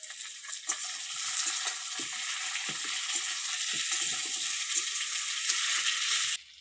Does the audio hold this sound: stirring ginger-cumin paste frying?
yes